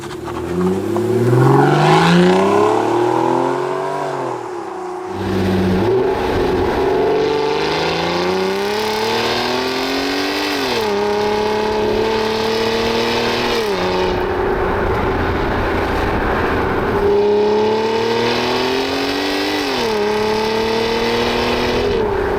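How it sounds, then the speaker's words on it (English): A 2011 Aston Martin Virage engine revs and accelerates through a series of rising gear pulls, loud and close, its pitch climbing and dropping with each shift. "today I am driving the 2011 Aston Martin Virage"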